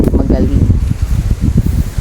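Strong wind gusts through leaves outdoors on a farm during a sponge gourd harvest, a steady close rushing rustle that stays loud throughout.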